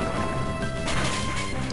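Rock Smash attack effect from the Pokémon Emerald video game, a loud crunching crash of breaking rock that runs through the short clip with a harsh, gritty texture.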